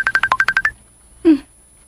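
A mobile phone keypad sounds a rapid run of about eight evenly spaced dialing beeps, then a single lower electronic tone after a short pause, clear and close with no talk.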